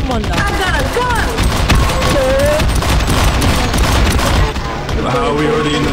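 Gunfire in the co-op shooter Sven Co-op, dense bursts and pops packed under constant frantic shouting and chatter from several players, loud and busy throughout with music-like tonal sweeps in the mix.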